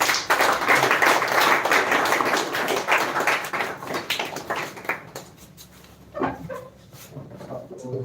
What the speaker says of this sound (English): Thanks for the clapping.